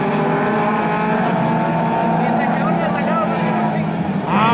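Race cars, among them a red Toyota Hachi, contest an interclub track race in Costa Rica; a loud, steady engine roar holds the whole time, with a slight shift in pitch near the end as a car passes.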